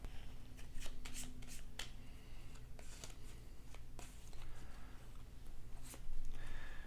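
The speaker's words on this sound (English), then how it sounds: "Got a few decks to shuffle again." Decks of cards for the Gloomhaven Jaws of the Lion board game are shuffled up close, in repeated quick riffling bursts with brief pauses between, over a low background hum.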